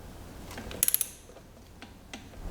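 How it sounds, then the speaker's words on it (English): A torque wrench ratchets a quick burst of four or five sharp clicks while tightening the transfer case drain plug on an Audi Q7, followed by faint workshop handling noises. "grab your torque wrench and make sure that you torque your drain plug up to the proper specification"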